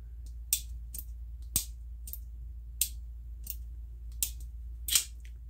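A Gerber ANSWER F.A.S.T. Tanto folding knife snaps its blade shut and open, giving about seven sharp, close metallic locking clicks spaced irregularly over a few seconds against a quiet background.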